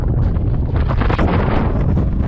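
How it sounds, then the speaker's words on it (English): Heavy wind, sustained with gusts of 50 to 55 miles an hour near Las Vegas, pounding the microphone in a continuous, loud, gusty roar with no pauses. "sustained winds with gusts 50, 55 miles an hour"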